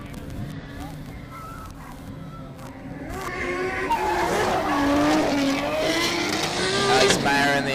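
Drift race cars, including a Nissan S14, sliding through a turn with tires squealing and engines revving, the screech rising and growing louder, under excited commentary at a drift competition.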